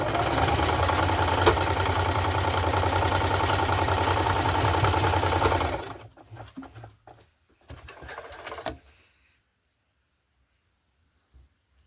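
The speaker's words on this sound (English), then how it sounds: "Now we're going to sew our waistband together." Close, steady whir of a sewing machine stitching a waistband seam on wool cut from a sweater, running evenly for about six seconds, then stopping, followed by a few soft handling clicks and rustles before quiet.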